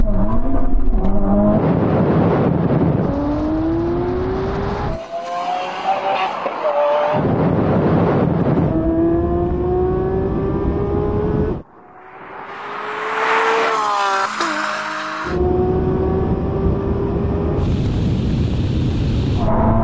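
A Tesla Model X Plaid, Ferrari SF90 and Lamborghini SVJ launch in a drag race, loud engines revving and rising in pitch through gear changes, cut into separate bursts with a whooshing pass and speech in between.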